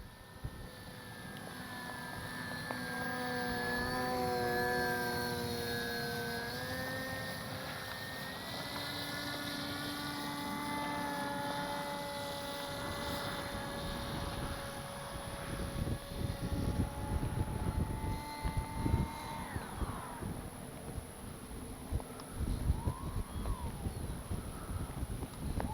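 An H-King Bixler 1.1m V2 RC airplane flies its maiden flight at low throttle into the wind, its electric motor giving a steady droning whine that shifts in pitch over gusty wind noise.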